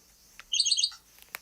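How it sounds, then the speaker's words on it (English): A small bird chirps in a quick burst of bright, high tweets lasting about half a second, followed by a couple of faint isolated chirps. The bird sounds close and stands alone in an otherwise quiet indoor setting. "Hi, bird."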